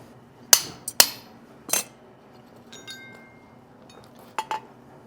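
A hammer and chisel notch an ear into a horseshoe, striking several sharp, ringing metallic blows, two close together and then scattered single taps with lighter clinks in between, near and loud in a quiet room.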